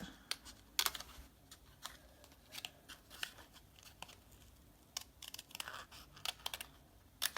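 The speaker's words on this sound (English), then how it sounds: "So I'm going to cut along the basket." Sharp craft snips cut through card along a basket shape with a series of quiet, crisp snipping clicks, irregular and close.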